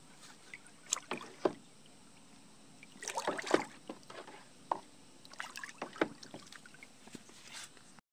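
A pesticide mixture for spraying chili plants is stirred by hand, with irregular sloshing and splashing strokes of liquid that come in uneven bursts, close up and fairly quiet.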